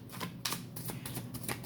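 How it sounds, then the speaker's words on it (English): Tarot cards falling out of a shuffled deck, a quick run of soft close flicks and taps in an irregular rhythm, faint and with no voices. "I'm going to let these cards fall out."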